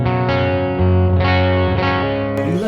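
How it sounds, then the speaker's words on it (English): Electric guitar on the bridge humbucker through a Mooer Preamp Live on its Bassman amp model, sustained chords ringing full and loud with mild drive, changing a few times, no talking. "I'm playing on the bridge humbucker."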